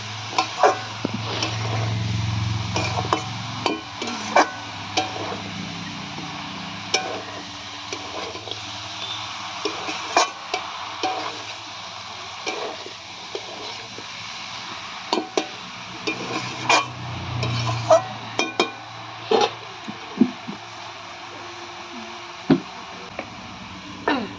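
Prawn leg and cabbage curry being stirred in a pan, a steady run of scraping, knocking utensil strokes against the metal over a low background hum, with no talking.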